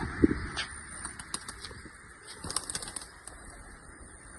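Fancy pigeons in a loft flap their wings in short bursts, with scattered soft rustles and thumps at close range over a quiet background hiss.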